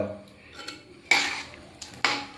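A spoon stirs a coconut-based chickpea curry with coriander leaves in a pot, giving a few sharp metallic scrapes and clinks against the pot, close and brief, with no speech.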